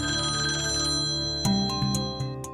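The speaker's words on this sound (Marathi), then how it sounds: "फोन वाजतोय." A telephone ringtone plays loud and close, a melodic electronic tune with repeating tones that swell toward the end, heard alone without talk.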